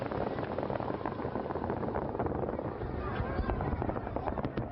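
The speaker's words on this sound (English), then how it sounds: "An extravagance of fireworks entertains the chosen few." Fireworks bursting at a leader's birthday celebration in Pyongyang, a dense, continuous roar of crackling pops and booms heard at a distance, loud and sustained throughout.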